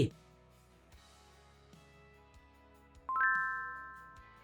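A game system notification chime: a soft tinkle at the start, then a bright, ringing ding about three seconds in that fades slowly over a quiet background.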